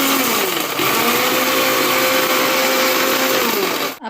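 Electric mixer grinder crushing garlic and cumin into a paste, a loud, close, steady whirring roar that runs continuously and cuts off abruptly at the end.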